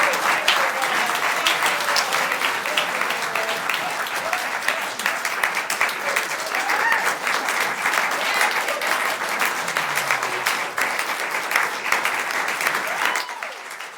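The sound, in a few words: audience applause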